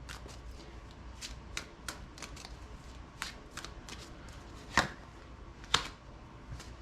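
Oracle cards riffle and snap in repeated quick shuffles, close and crisp, with a couple of sharper slaps of the deck.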